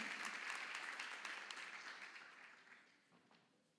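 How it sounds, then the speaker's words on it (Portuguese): Church congregation applause, dense and steady, gradually fading toward the end with a few scattered claps lingering. "Dê uma salva de palmas"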